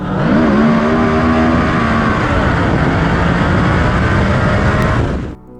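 A Yamaha V Max muscle motorcycle engine roars loudly and close, holding a heavy, steady drone with a rising and settling pitch before cutting off abruptly at the end.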